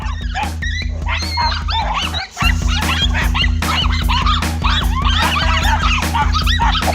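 A dog barks and yelps frantically and without pause, loud and close, with high whimpering yips over a steady low hum.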